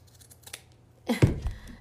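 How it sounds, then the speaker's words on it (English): Scissors snip through jute for a rustic branch wall hanging, a couple of crisp, close cuts following a few faint rustles. "And I cut more of it."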